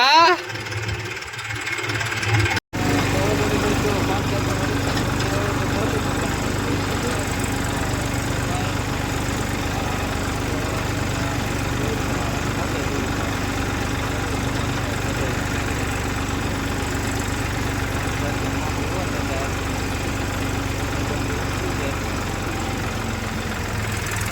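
A farm tractor engine idles outdoors in a steady, unbroken mid-pitched drone that runs close and even for the whole stretch after a brief knock at the start.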